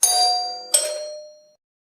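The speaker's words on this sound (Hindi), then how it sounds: "डोरबेल बजी।" A two-tone doorbell chime: a bright ding followed by a lower dong that rings out and fades, heard alone.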